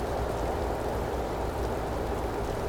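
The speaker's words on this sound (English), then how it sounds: "It's not raining as bad now." Rain falls in American Truck Simulator, a steady, even hiss of drops with a low rumble underneath, continuous and unchanging throughout.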